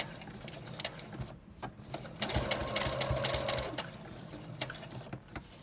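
A sewing machine runs in bursts while stitching a DIY N95-shaped surgical mask, with short whirring runs, a steadier sustained stretch in the middle, and clicking pauses between, close and fairly quiet with no talk.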